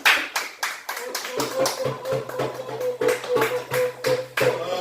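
A church congregation claps at a Pentecost Sunday service, a steady, rhythmic run of handclaps that keeps going with voices and a tonal hum underneath.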